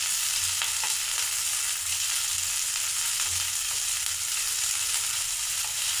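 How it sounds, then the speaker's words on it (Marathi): Medium-sized onions, sliced lengthwise, sauté in a pan for a paneer curry, giving a steady, close sizzle with faint stirring scrapes throughout and no talking. "मध्यम आकाराचे 2 कांदे मी उभे चिरून घेतलेले आहेत। ते आपल्याला यामध्ये परतून घ्यायचे आहे।"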